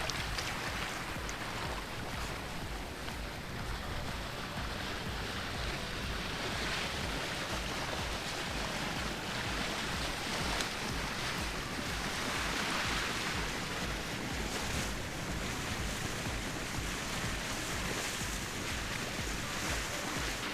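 A sailboat moves through a breeze on a calm sea, with steady broadband rush of water along the hull and wind buffeting the microphone, continuous and fairly loud throughout, no talking.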